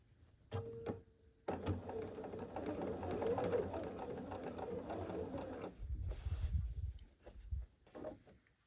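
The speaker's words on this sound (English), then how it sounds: "we're just going to sew a 1/4 inch seam allowance here" A sewing machine runs a quarter-inch seam on a patchwork quilt block: a short start-stop near the beginning, then one steady, fast, even stitching run of several seconds close by before it stops, with no voice over it.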